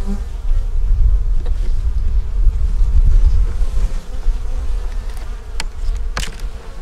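Honey bees swarm over an open hive, their dense, continuous buzzing loud and close, with a few faint clicks and handling noises.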